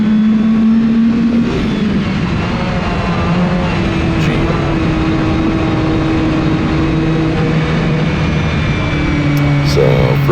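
Race car engines drone at high RPM through a turn, a loud, sustained buzzing roar with slowly shifting pitch as several cars run together, close and continuous for the whole stretch.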